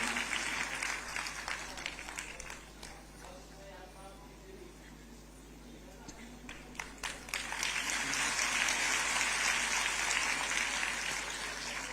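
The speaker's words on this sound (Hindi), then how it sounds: "आपकी तालियां संगीत का काम करती हैं।" Audience applause at a Hindi-speaking government event on free roadway bus travel for elderly women, a steady wash of clapping that swells louder toward the end, with talk mixed in.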